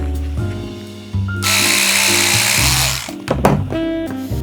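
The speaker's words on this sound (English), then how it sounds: "I'm just going to trim the edge." Edge of an industrial tote bag being trimmed, a steady whirring cut lasting about a second and a half, followed by brief clicks and clatter.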